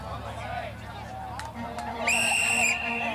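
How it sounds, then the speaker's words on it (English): A referee's whistle sounds one sharp, loud blast to start a church basketball game between Army and Navy teams, rising over crowd chatter and a commentator's voice, with a couple of brief squeaks just before. "as soon as the music begins and the whistle sounds, Andy Taylor is going to inbound the ball"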